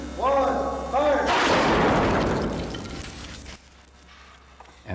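A missile fired in a tornado test against a steel-reinforced concrete wall faced with brick slams in with a loud, sustained burst of crashing noise that follows a voice and fades out over a couple of seconds.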